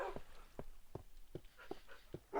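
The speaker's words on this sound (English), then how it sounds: "Here's a couple of dogs more now." Dogs in the Minecraft video game whimper in a kennel, a series of about eight short, soft whines and pants spaced irregularly, faint and near, with no talk.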